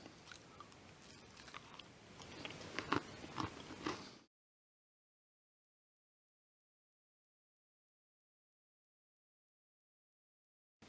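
Close, crunchy biting and chewing of a homemade Ferrero Rocher-style chocolate hazelnut candy, several seconds of quiet mouth crunches that stop abruptly, followed by silence.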